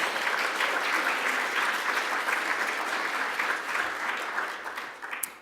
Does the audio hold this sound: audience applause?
yes